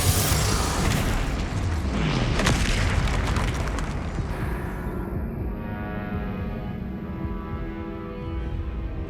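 Fire spell cast in the video game Hogwarts Legacy: a loud, dense burst of booming, crackling blasts fills the first half, then eases into a steady roaring rumble with ringing tonal layers.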